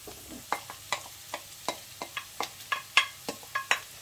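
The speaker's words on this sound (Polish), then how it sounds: "Całość obsmażamy do momentu, aż cebula zrobi się miękka" Chanterelles, bacon and onion frying in a pan, a soft steady sizzle broken by a regular series of scraping, tapping stirring strokes, close and fairly quiet, no voices.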